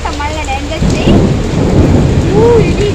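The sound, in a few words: thunder during rain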